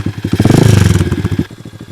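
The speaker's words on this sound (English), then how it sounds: "a quick little burnout right here" A pit bike engine revs hard through a short burnout, its loud, rapid pulsing exhaust rising to a peak and then dropping to a lower, choppy idle near the end.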